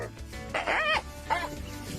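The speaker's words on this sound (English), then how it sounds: "This dog is clearly better at barking than acting" A dog barks in a few sharp, yelping bursts, with a higher whining tone, while facing off with an iguana; nearby and fairly loud against background noise.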